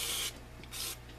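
Gun Scrubber solvent being sprayed to clean a handgun: two short, close hissing aerosol bursts separated by a brief pause, fairly quiet, with no talk.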